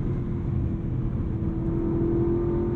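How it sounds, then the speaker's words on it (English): A Porsche Panamera GTS Sport Turismo's twin-turbo V8 in Sport Plus hums as a steady, loud, low drone inside the cabin, with a constant engine tone and no talking. "It just talks to you. As does that twin turbo V8 now in Sport Plus."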